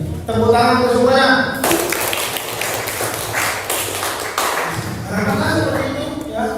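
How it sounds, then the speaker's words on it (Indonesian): Audience applause at a school graduation announcement, a burst of scattered clapping that swells and fades over several seconds, with voices speaking before and after it. "Tepuk tangan untuk semuanya."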